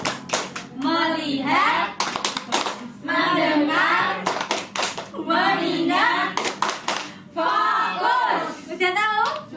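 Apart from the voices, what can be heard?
tepuk fokus rhythmic hand clapping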